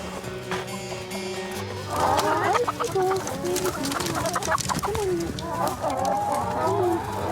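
Former caged hens cluck and squawk in a busy chorus, with overlapping calls and a low hum of movement throughout, fairly close.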